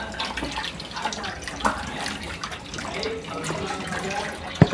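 Water is poured steadily into a small gourami fish pond, making a continuous splashing trickle with a few sharper drips and knocks, fairly close and unbroken.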